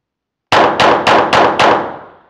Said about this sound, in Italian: facciamo due serie di cadenzato veloce da 6 colpi ciascuna per vedere un po' come si comporta l'arma